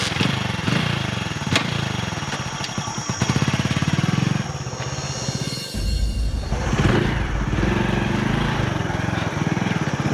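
A motorcycle engine idles and revs unevenly up close as someone learns to ride, a continuous rough chugging with bursts of throttle and a few sharp knocks.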